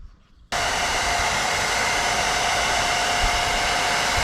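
A heat gun blasting hot air at tint film on a car rear light switches on abruptly after a quiet moment, then holds a loud, steady whooshing hiss with a faint whine.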